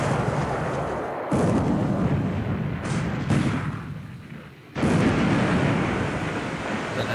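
Naval shell fire in the War in the Pacific video game, with 4-inch and 5-inch shells striking armor: heavy booming blasts rolling together, loud and rumbling, with sudden surges and sharp cutoffs between bursts.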